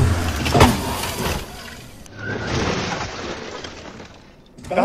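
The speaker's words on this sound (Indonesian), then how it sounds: "dihantam-hantam lah mobil tuh sampai penyok ini" A car in Hokkaido rammed again and again until it dents, with heavy metallic impacts and crunching bursts standing out over street noise, and a voice faintly in the background.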